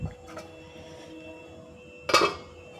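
A lid clinks down onto a simmering pot of paneer butter masala gravy, one short metallic clatter in a quiet kitchen after a soft earlier knock.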